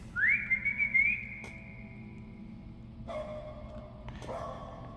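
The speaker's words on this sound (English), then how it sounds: "we use the dog's whistle in certain areas in order to know where we're going" A dog whistle blown in the horror video game Lost in Vivo: one rising, sustained whistle tone that fades, followed by quieter tonal game sounds over a low ambient rumble.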